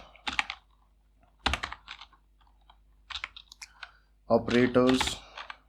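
Keys on a computer keyboard clack in short separated bursts while writing a Python file in VS Code, close and crisp, with a voice speaking briefly near the end.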